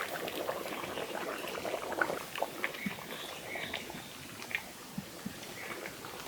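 A large pot of Barishal-style ash gourd morabba with raisins simmers on the stove, giving soft, quiet bubbling with scattered small pops and gurgles up close, no one speaking.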